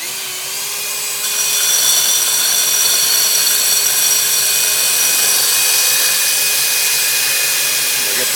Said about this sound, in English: we're going to core us an inch and a half, little core over here